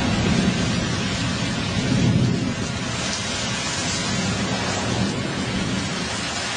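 Steady rain pours through a thunderstorm in Meridian, Mississippi, a dense continuous wash of close hiss with a slightly heavier, rumbling swell early on.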